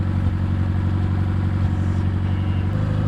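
A junkyard Nissan engine, just fired up for the first time, runs at a steady, rather high idle with a low, even throbbing rumble and a faint mechanical clatter, close and loud throughout without any talking.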